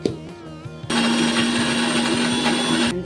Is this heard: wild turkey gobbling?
no